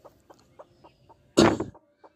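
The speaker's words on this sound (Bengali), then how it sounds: "আমাদের মুরগিটি বসে আছে, তার নিচে আমাদের চীনা হাঁসের বাচ্চা ফুটেছে" A brooding hen sitting over newly hatched Chinese duck chicks gives soft, evenly spaced clucks, then one louder, harsher squawk, heard close and alone.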